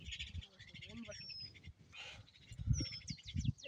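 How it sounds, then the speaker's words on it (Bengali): Small birds call around a floating boat in the morning: quiet chirps and short rising whistles scattered through the stretch, mixed with faint voices and some movement noise close by. "এই যে পাখি প্রচুর পাখি"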